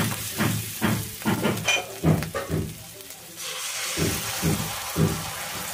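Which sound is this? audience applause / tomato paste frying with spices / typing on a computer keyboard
tomato paste frying with spices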